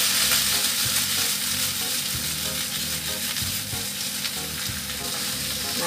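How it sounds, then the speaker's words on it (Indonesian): Meatballs and mushrooms fry in a pan, a loud, continuous sizzle with steady stirring scrapes underneath, close up and with no voices. "Setelah wangi kita masukkan bakso dan juga jamurnya. Lalu ini kita aduk ya."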